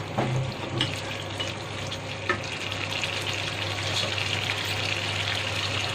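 Water is poured into a simmering Konkani fish masala curry in a cooking pan, giving a steady sizzling, bubbling hiss that runs for the whole stretch at moderate loudness, with no talking over it.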